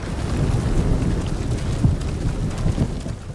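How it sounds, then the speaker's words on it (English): Stormy rumble from Ghost of Tsushima, a low continuous roar of thunder blended with rain and wind, dense and fairly loud over a few seconds, no voices. "There's deafening thunder going on."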